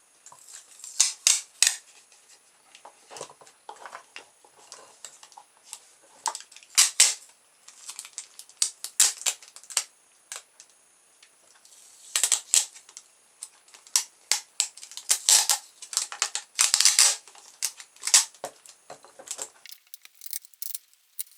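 Sticky tape being wrapped around a part while building a spinning, vibrating artist robot gives irregular bursts of sharp crackling, tearing and clicking, close and fairly loud, with short quiet gaps between and no talking.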